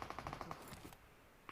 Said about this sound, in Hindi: गोली चल रही है सामने